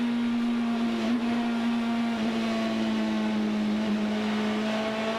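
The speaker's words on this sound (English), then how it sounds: "Listen to Dirk Müller pick up that throttle again so early as he comes through the carousel." A GT race car's engine holds a steady, loud drone as the driver gets back on the throttle through the carousel corner at Road America in a 2011 ALMS race, with no talk over it.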